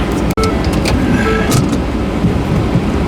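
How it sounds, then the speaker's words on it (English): A vehicle drives away from a job site, a steady close rumble of engine and road noise with light rattles over it, continuous throughout. "Alright, I'm driving out of here before they come back out again"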